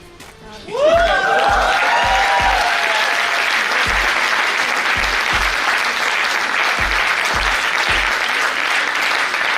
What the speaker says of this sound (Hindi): ये जलन वाली ताली है, खुशी वाली?